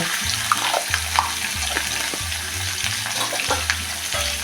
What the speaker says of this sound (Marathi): त्यात आपण थोडा वेळ परतून घेऊया